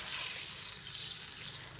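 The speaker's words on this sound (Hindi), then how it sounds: "अब इसमें मैं पानी डालूंगी।" Water runs and splashes steadily into a pot of rice, a brief continuous pouring gush at moderate volume with no talking.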